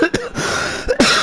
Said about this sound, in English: Goodness me, and I'm about to cough.